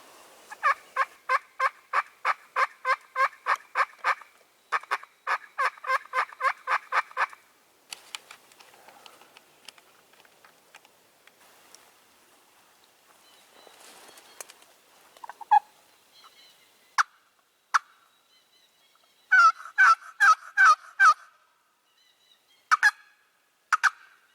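A wild turkey gobbles during a Wisconsin spring turkey hunt, with fast rattling bursts repeated in two long runs, then a quieter stretch and a few more scattered gobbles, moderately distant with no talk.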